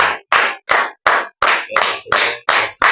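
A congregation at a French-language church revival service claps in a steady rhythm, about ten sharp, close, loud claps over three seconds, with no talking.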